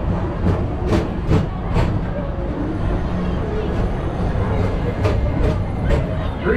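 The People Mover ride at Disney World's Magic Kingdom in Tomorrowland glides along with a continuous rolling rumble. Faint clicking and sharp ticking sounds recur throughout, with a steady mechanical drone underneath.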